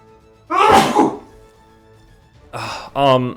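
A single loud, close sneeze with a sharp burst of breath, followed after a pause by two short vocal sounds.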